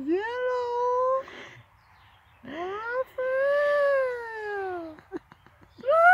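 A voice imitates a cat's meow, drawing out two long rising-then-falling wails with a short squeak and light clicks after them, close and fairly loud.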